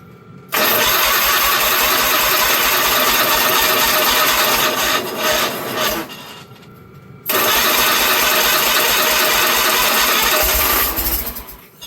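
An old Wheel Horse 520H garden tractor that sat unused for years cranks hard and loud, pauses briefly, then cranks again with a dense, chugging roar close to the mic.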